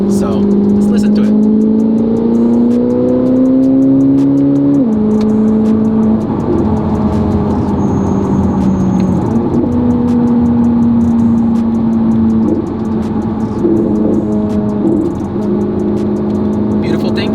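Modded 1200HP Corvette C8 ZR1 engine revving loudly up close, with sustained throttle pulls that rise in pitch and drop back, steady heavy drone throughout.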